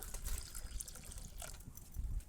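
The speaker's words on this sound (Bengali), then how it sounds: "আমি এটা এটার মধ্যে কিন্তু আরও কিছুটা জল দিয়ে দেব" Water pours or splashes into a pot of boiling lentils and spinach, a steady liquid wash with small drips lasting a couple of seconds, close and moderately loud.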